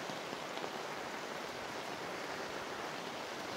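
Rainwater flows along a flooded road in a steady, broad hiss of falling and running water, even and faint throughout.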